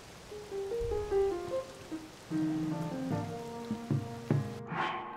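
Steady rain patters and hisses across the landscape in Zelda: Tears of the Kingdom, a constant wash of noise under soft plucked game music notes.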